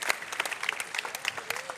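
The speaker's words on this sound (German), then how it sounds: "das ist ein Applaus" A TV studio audience at a 2015 Musikantenstadl folk-music show applauds a guest, a fisherman, as he is welcomed: brisk, dense clapping, fairly close and steady through the short stretch, with no voices over it.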